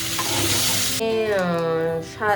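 Paneer rubbed with salt and turmeric fries in hot oil, giving a loud, bright sizzle for about a second before it cuts off and a brief voice is heard.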